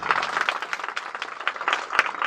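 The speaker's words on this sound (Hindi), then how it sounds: "सभी स्वागत में ताली बजाओ।" A crowd claps in welcome during a Bhagavat Katha religious gathering, a dense, steady patter of many hands close by, lasting a couple of seconds with no voices.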